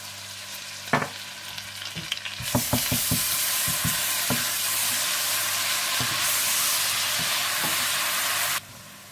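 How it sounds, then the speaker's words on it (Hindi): Loud, steady sizzling of ginger and garlic frying in a pan, with a cluster of spoon scrapes and clacks early on, then continuous hissing. "आप इसमें अदरक लहसुन डालकर थोड़ा सा भून लें"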